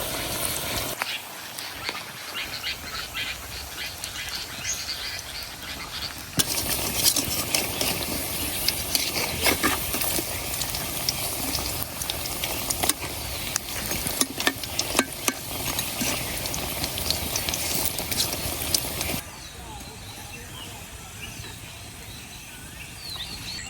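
Onions frying in oil for crispy piyaju, a steady dense sizzle that grows louder and busier for most of the stretch, then drops to a softer hiss near the end, with faint birds in the background and no talking.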